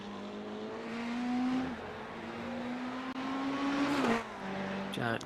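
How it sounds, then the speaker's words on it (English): GT3 race cars crossing the start-finish line at Le Mans in a racing video game, engine tones climbing and dropping through gear shifts, moderately loud and continuous. "You got Mark Chapman crossing the start-finish line as well."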